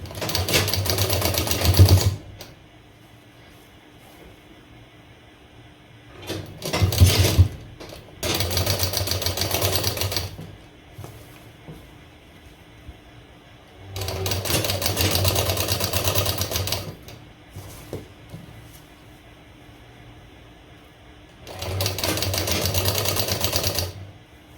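Sewing machine stitching a princess-cut blouse, running in several bursts of steady whirring separated by quiet pauses, close and alone.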